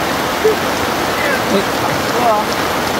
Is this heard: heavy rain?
yes